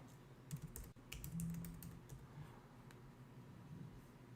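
Quick typing on a computer keyboard, a short flurry of light key clicks near the start followed by sparser taps, faint and close in a quiet room with no talking.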